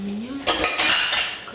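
Metal pot lid and cookware clatter in a kitchen during mussel cooking, a quick burst of close, bright clanks and scrapes lasting about a second.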